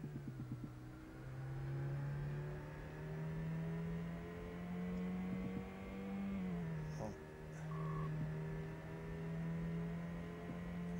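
A synthesized buzzing car engine drone in Amiga Test Drive II The Duel, wavering steadily and dipping once in pitch as it shifts down gears before settling, close and loud with no voices.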